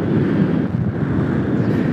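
Strong wind buffets the microphone on a paramotor field in a constant low roar, loud and unbroken for the whole stretch.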